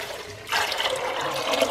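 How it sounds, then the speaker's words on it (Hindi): Water is poured into a pressure cooker holding chickpeas for Lahori chana, a steady close splashing rush that starts suddenly and keeps going loud to the end. "इसमें मैं ये चने जो हैं ये डाल रही हूँ और इसमें मैं शामिल कर दूंगी 2 लीटर पानी"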